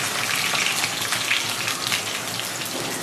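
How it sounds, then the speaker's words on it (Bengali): Chopped onion frying with cardamom pods in a pan gives a close, dense, steady sizzle with a rain-like patter of crackles throughout. "আর এখানে আমি পেঁয়াজ কেটে দিয়ে দিচ্ছি।"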